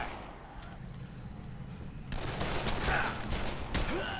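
Gunshots ring out in Dead Island: Definitive Edition, a few sharp cracks bursting over a steady background after a couple of seconds, close and fairly loud.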